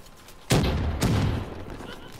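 Grenade blast and gunfire in Call of Duty: Black Ops 3 beta multiplayer, two sharp booming bursts about half a second apart, loud and close, with rumbling decay and no talk.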